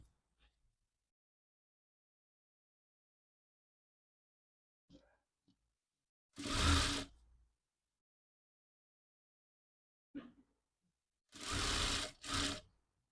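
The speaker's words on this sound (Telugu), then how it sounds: "ఈ మూడింటిని ఈ విధంగా సెట్ చేసుకొని ఆ కుట్టు మీదనే ఈ విధంగా సెట్ చేసుకొని స్టిచ్ అనేది వేసుకోవాలి." A sewing machine stitching piping onto designer puff sleeves, two short bursts of fast mechanical whirring separated by silence and faint handling clicks, the second burst split into two runs.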